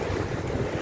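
Sea waves wash onto the shore in a steady, loud rush of surf, mixed with heavy wind buffeting.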